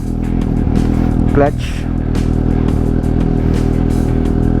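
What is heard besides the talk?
big bike motorcycle engine running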